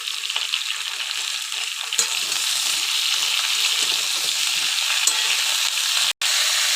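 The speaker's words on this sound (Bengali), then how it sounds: "মাছ ভাজার যে বাকি তেলটা ছিল ওটাতে আমি আলু আর পটলটা ভালো করে ভেজে নেব" Potato and pointed gourd sizzle in leftover fish-frying oil, with salt and turmeric added, giving a steady, close crackling hiss with occasional stirring scrapes and a brief dropout near the end.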